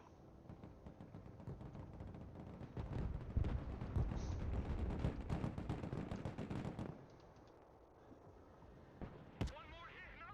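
Gunfire and explosions from the military strategy game Broken Arrow, a dense, loud barrage of sharp bursts and booms lasting several seconds, then easing off with a few later hits, while voices call out over the combat.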